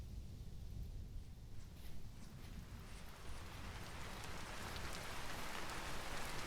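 Heavy rain pours outdoors on a homestead in murky fog, a steady dense hiss of drops that swells louder and brighter toward the end, with no voices.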